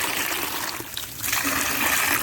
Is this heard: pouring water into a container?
yes